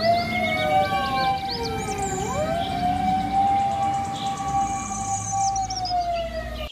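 A toy fire truck's wailing siren rises and falls steadily, loud and continuous, with a thin electronic tone.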